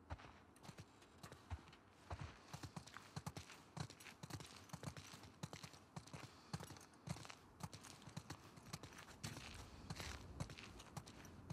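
Hooves of horses in The Last of Us Part II clip-clop at a walking pace, a close, uneven patter of hoof strikes running steadily throughout, fairly quiet overall.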